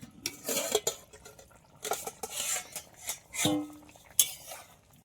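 A pot of silver carp and potato curry being handled, with a series of metallic clanks and scrapes of a lid and utensils against the pot in irregular bursts, close by, with no talk.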